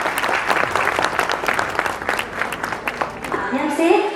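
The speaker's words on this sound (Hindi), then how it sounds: "जोरदार तालियों के साथ उनका स्वागत कीजिए" An audience at a nursery class show claps in a sustained burst of applause, fairly loud and continuous, with voices mixed in underneath and the clapping thinning toward the end.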